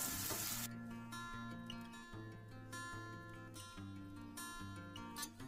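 Chopped tomato sizzling and frying in a pan with turmeric and curry leaves for Goan prawn curry, steady close crackle with occasional stirring scrapes.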